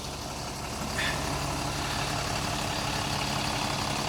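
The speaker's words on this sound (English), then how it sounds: "Under the bonnet we have Euro 6 Cummins engine, 280 brake horsepower" A 2016 Temsa MD9 Max bus with a 280 horsepower Euro 6 Cummins engine idles in a steady, continuous low drone. The sound is close and fairly loud, with a brief higher hiss near the start and no talking.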